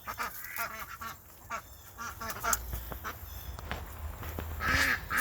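Several ducks quack repeatedly in a backyard vegetable garden, their calls close and overlapping in irregular bursts over light outdoor background noise, with a louder cluster of quacks near the end.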